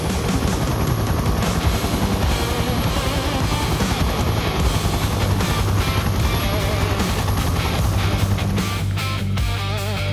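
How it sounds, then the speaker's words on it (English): A Huey helicopter heard from inside during flight, its rotor chopping and turbine roaring loud and constant throughout, with no talk over it. "Actually going for a ride in their Huey"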